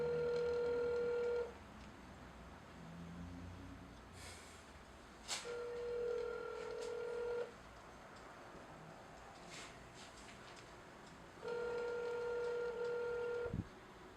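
A phone call rings out: a steady ringback tone repeats in long evenly spaced pulses with quiet gaps between, faint clicks and brief noises scattered throughout.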